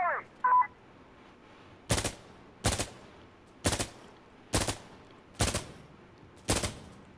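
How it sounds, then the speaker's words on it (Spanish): Gunfire in the shooter Insurgency: Sandstorm: six loud, evenly spaced single shots ring out one after another, following a couple of short electronic beeps at the start. "Le disparé un chingo de veces"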